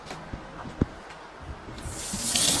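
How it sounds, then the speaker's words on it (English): Water from a tap rushes into a just-repaired kitchen sink drain, starting as scattered knocks and drips before building into a loud, close hissing spray near the end. "Water going down, and we're good. Spraying all up here though."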